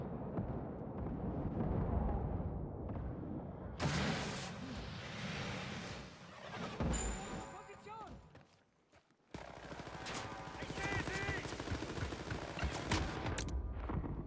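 Grenade blasts and rapid gunfire from the video game Wolfenstein Youngblood, loud bursts and booming impacts in several clusters broken by a brief near-silent gap, with players talking over them.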